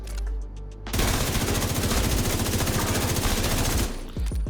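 A Lexington rifle from The Division 2 video game fires one long, rapid automatic burst of evenly spaced, loud, close shots that lasts about three seconds, followed by a few trailing clicks and shell rattles.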